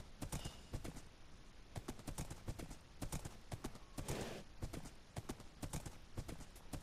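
Horse hooves clip-clop in a rapid, even gallop in Minecraft on PlayStation 4, crossing a large ice biome; the sharp, close, rhythmic thuds run continuously with no talk.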